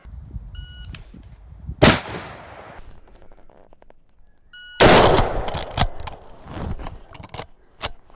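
Two loud, sharp rifle shots from a Henry X lever-action in 45-70, about three seconds apart, each with a long rolling echo and followed by mechanical clicks of cycling the action.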